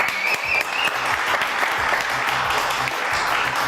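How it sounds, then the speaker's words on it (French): A studio audience claps loudly and steadily on a French television talk show, a dense sustained burst of applause with little else audible. "je vous demande d'applaudir très très fort"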